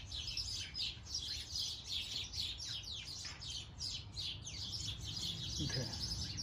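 Small birds chirp and tweet outdoors in quick repeated high calls throughout, fairly close and clear over a low background hum, with a brief low thump near the end.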